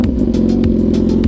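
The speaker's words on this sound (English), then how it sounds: "I am gonna go ahead and give it a little rev bump." A warmed-up motorcycle engine idles loudly up close and gets a quick rev bump, the throttle blip rising briefly over the steady rumbling exhaust.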